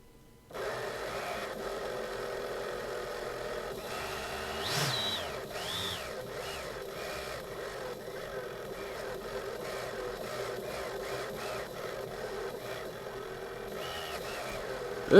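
Small quadcopter motors spin on a workbench, a thin steady whine with shifting pitches and brief chirps as one motor fails, fairly quiet throughout.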